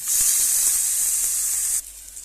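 A burger frying in a pan gives a loud, steady close-up sizzle with a bright hiss and a few small pops, then drops suddenly to a quieter sizzle near the end.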